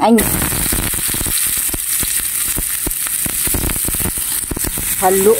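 An egg fries in oil in a pan with a loud, steady sizzle and dense crackling pops. A voice speaks briefly at the start and end.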